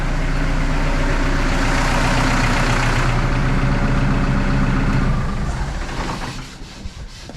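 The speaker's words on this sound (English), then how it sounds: "Yeah, we'll turn the tractor off." A tractor engine idles loud and close, a steady low rumble that holds for about five seconds, then dies away as the engine is shut off during work fitting a hedge cutter, leaving a quiet tail.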